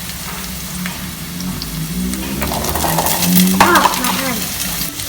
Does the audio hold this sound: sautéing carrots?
yes